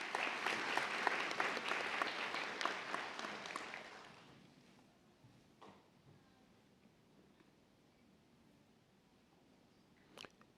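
An audience at a spring nursing convocation claps for a master's graduate being hooded; dense, lively applause for about four seconds, then it fades to near quiet with a few scattered claps and a sharp tap near the end.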